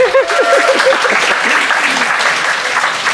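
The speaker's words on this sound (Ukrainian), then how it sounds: "Вау, супер оплески!" An audience at a live talk in Lviv claps loudly and steadily for several seconds, with a voice briefly heard over the start of the applause.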